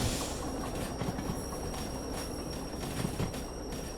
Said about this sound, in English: I'll start applying a little bit of brake.